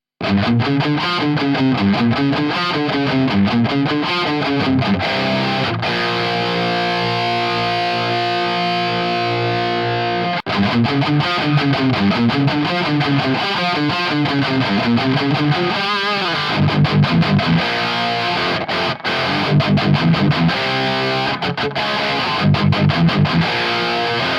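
A loud, distorted electric guitar riff with crunchy overdrive from an Origin Effects M-EQ Driver pedal, chugging and repeating phrases with sustained chords in between, played alone.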